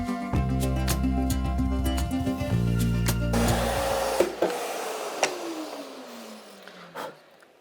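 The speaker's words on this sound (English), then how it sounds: "cut the boards to length" A power saw cutting wooden boards to length in a woodworking shop: a loud steady motor whine with a few knocks, then the blade winds down in a falling pitch as it coasts to a stop.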